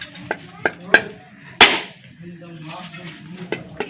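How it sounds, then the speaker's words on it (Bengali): A coconut is cracked open with a few sharp knocks building to one loud crack, followed by softer clatter and faint movement nearby. "এখন বন্ধুরা নারকেলটা ফাটিয়ে নিয়েছি"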